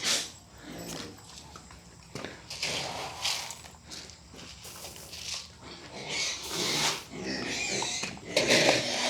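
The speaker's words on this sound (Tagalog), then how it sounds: "Normal na pakain na po ngayon sa ating mga baboy." Hungry pigs grunt and squeal at feeding time in a pen, a busy, close jumble of snorts and squeals mixed with shuffling, clanking noise that swells toward the end.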